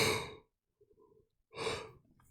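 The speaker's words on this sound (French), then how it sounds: "Désolé, je baille beaucoup" A person yawns, two long breathy exhalations with a soft pause between them, close and fairly quiet, with no other sound around them.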